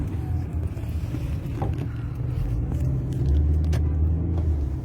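Slow road traffic in a small Sunday traffic jam in Tbilisi, heard as a steady low rumble of idling and creeping car engines nearby with occasional faint higher clatters.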